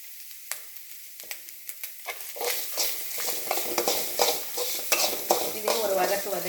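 Tamarind sautés in a pan for pirandai chutney, starting with a few sharp utensil clicks and building into a loud, continuous sizzle with repeated spatula scrapes and taps.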